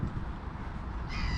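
Crows caw over a field spread with liquid cow manure, a short burst of harsh calls that sound fairly close and ring out against a steady outdoor background.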